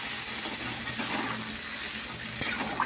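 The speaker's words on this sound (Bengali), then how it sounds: "এবার জল দিয়ে দিলাম।" Water pours into a cooking pan in a steady, close rushing stream, a continuous splashing gush running without a break.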